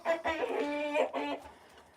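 Hens on a small ranch clucking in a close, loud run of calls with a short pause in the middle, no talk over them.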